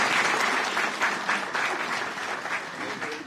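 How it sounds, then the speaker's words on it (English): An audience applauds steadily at an award ceremony, dense clapping sustained throughout at close range. "Let's give another round of applause."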